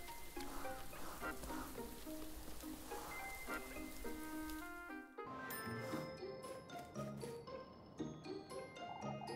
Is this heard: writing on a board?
no